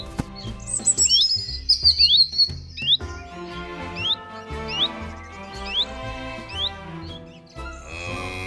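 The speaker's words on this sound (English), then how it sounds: "The bluebird is chirping" Bluebird chirping on a farm, with short rising tweets repeating every second or so over a busy, tonal music bed.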